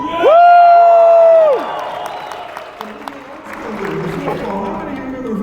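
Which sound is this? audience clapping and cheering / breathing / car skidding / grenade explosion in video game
audience clapping and cheering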